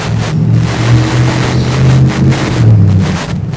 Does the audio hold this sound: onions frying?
no